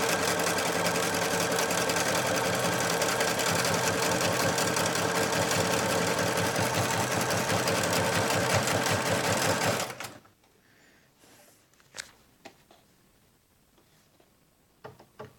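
A Bernina Artista 200 sewing machine stitches a thick satin stitch with fine 120 weight thread, giving a loud, steady, rapid mechanical whir for about ten seconds. It then stops, leaving quiet handling clicks and taps.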